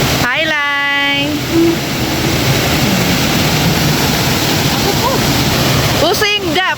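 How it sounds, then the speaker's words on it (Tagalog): Steady broadband rush of Tinuy-an Falls, a large waterfall, roaring continuously and close throughout, with voices talking over the water near the start and again near the end. "welcome to Adlawang Tinoyan Falls"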